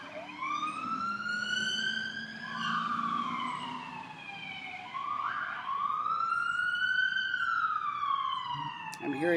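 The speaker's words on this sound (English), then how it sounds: "I'm hearing several sirens go by." Several emergency-vehicle sirens pass nearby in succession, their loud wailing tones sweeping up and down and overlapping as they go by.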